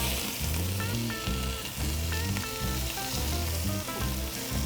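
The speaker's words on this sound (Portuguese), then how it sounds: "Por que a gente sela a carne?" Marinated rabbit meat sears in a pan in a home kitchen, a steady loud sizzle and crackle of frying with rhythmic low clatter running beneath it, close and continuous.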